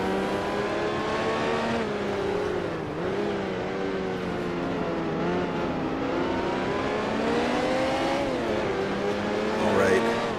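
Race car engines from Grand Prix Legends, including Ford GT40s, drone continuously with shifting revs and gear changes, loud and close throughout, with a brief peak near the end.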